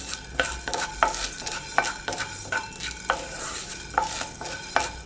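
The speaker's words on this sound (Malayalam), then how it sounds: "ഇതൊന്ന് ചെറുതായിട്ടൊന്ന് ഡ്രൈ ആവുന്നിടം വരെ നമുക്കൊന്ന് ഇളക്കി കൊടുക്കാം" Whole black peppercorns dry-roasting in a pan for homemade sambar powder are stirred with a spoon, giving repeated scraping, rattling strokes about once a second over a faint sizzle, close and fairly loud with no talk.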